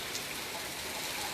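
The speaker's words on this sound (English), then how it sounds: "I'm standing under this though. You know, protected from the rain." Rain falls on a stormy, windy day, a soft, even, continuous hiss heard from under shelter, faint and unbroken with no voices.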